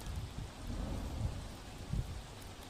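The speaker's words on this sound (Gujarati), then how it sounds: "સુરત સહિત દક્ષિણ ગુજરાતમાં ભારે વરસાદ વરસી રહ્યો છે" Heavy monsoon rain pours steadily across South Gujarat, including Surat, a dense close hiss with low rumbling swells and a couple of brief heavier bursts, no voices.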